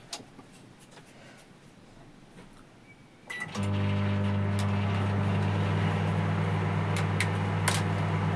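A household microwave oven switched on to test heating after a repair: a quiet room, a click at startup, then a steady loud hum with a mains buzz that runs on without a break.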